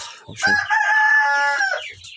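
Chickens in a farm coop give a loud, sustained vocal call lasting over a second, with a clucking or crowing rooster-like quality, preceded and followed by brief softer sounds, heard alone without talk.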